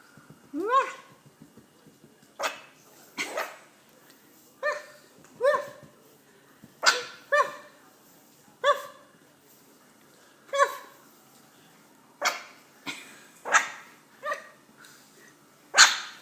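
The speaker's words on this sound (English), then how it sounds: "I heard a bark." A dog barks repeatedly, single sharp barks spaced a second or two apart, fairly close and clear against a quiet background.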